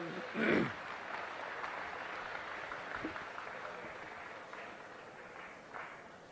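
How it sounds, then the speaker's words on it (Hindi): A kavi sammelan crowd at Bageshwar Dham keeps up a steady wash of applause, moderately distant and even, with a brief louder swell near the start. "अगर तालियां बजानी है तो एक बार जोरदार ताली बजाएं"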